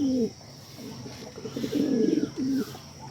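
Pigeons cooing nearby in a loft, several soft throaty coos in short bursts, one longer warbling call in the middle, with faint background hiss.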